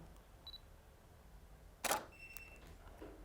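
A camera shutter fires once during an indoor portrait photo shoot, a sharp close click standing out against a quiet room, with a few faint electronic beeps around it and no talking.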